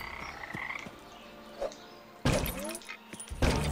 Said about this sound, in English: There's a lot of froggies over here.